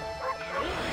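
Cartoon dog bark from the video game Okami, a short yipping bow-wow layered over busy in-game sound effects and music, close and moderately loud.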